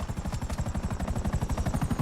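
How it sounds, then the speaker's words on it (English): An attack helicopter in a video game approaches with a rapid, steady rotor chop, a dense low thumping pulse repeating many times per second, loud and close with no talk. "There's an attack chopper coming after me, dog."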